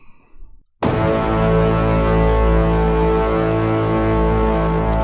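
A massive, brassy cinematic braam slams in after a brief quiet moment and sustains loud and dense, with deep layered low end, until the end.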